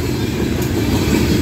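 A Norfolk Southern freight train led by locomotive NS 7532 rumbles past at close range in Karns, Pennsylvania, a loud, steady low roar of wheels and cars with no break.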